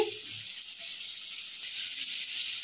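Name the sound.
prawns frying in pan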